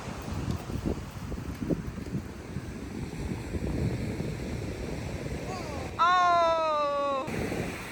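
Steady wind noise buffets the microphone at a beach, with a low surf-like rumble underneath and a brief tonal warble near the end.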